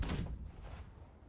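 A ship's cannon fires in the Blackwake naval battle game, a single loud booming blast that rolls off into a rumbling decay over about a second, with no talk over it.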